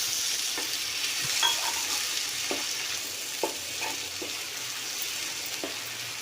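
A spoonful of chili, turmeric and a little ground coriander sizzles steadily in hot oil in a pan for hilsa fish curry, with a spatula scraping through the spices in regular strokes every second or so, close and alone.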